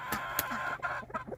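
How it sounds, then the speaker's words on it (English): Hens kept in a backyard garden bed pen cluck in short, close bursts, several soft calls rising and falling over a quiet outdoor background. "this year I've got my chickens in here"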